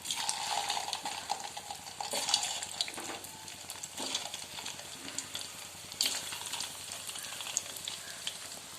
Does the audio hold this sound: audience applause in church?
no